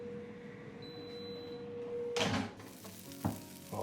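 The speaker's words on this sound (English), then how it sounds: "Oh, listen to that sizzle." Freshly roasted carrot fries sizzle quietly on their tray, a soft hiss under a faint steady hum, broken by a few louder scraping or clattering bursts near the end.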